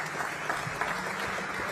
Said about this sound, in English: How about a round of applause for Mr.